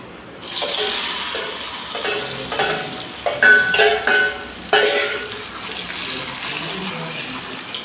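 Spices tempering in hot oil for gongura dal sizzle and crackle steadily, with a few sharper spattering bursts midway, close and fairly loud throughout.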